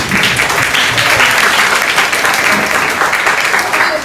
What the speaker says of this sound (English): I want a huge round of applause, please.